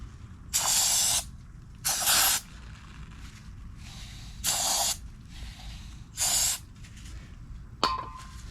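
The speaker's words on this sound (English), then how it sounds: "And I just sprayed some PB Blaster on that bolt" PB Blaster penetrating oil sprays onto a bolt during a 1979 Ford F-150 front hub overhaul, heard as five short, loud aerosol hisses spaced about a second apart, followed by a faint metallic clink near the end.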